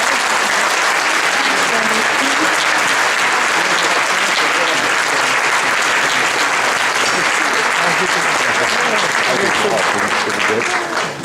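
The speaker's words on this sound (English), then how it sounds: "please give a round of applause to Fei-Fei" Loud, dense applause from a conference audience after a fireside chat on artificial intelligence, a steady wash of many hands clapping close by for about eleven seconds before easing slightly at the end.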